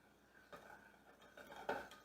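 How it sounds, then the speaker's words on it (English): A spoon stirring melted butter and sugar in a mug, a few quiet clinks and scrapes against the ceramic, close up, ending in a slightly louder knock, with no talking. "Give it a little mix."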